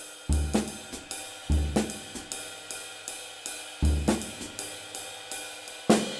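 A drum kit plays a steady groove: regular ride cymbal strokes over deep kick drum thumps and occasional snare hits, close and clear with no voices.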